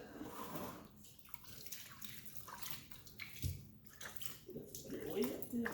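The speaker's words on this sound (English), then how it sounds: "Water in the pan." Water running into a pan, a soft, uneven splashing and trickling at low volume with a few louder pours and drips, steady through the clip.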